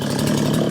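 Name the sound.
chainsaw cutting a tree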